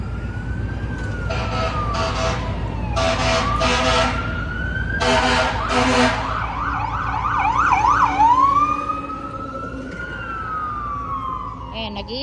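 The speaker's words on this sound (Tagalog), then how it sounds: "Fire truck!" A fire truck siren passes nearby: a rising wail, then fast yelp and warble cycles, with bursts of a blaring horn in between, loud over the street, fading toward the end.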